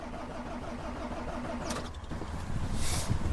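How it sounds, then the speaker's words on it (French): A heavy truck engine is cranked with the key but fails to start, a faint churning from the starter that grows rougher and louder toward the end. "Le moteur se lance, le démarre, fait lancer le moteur, mais ne démarre pas."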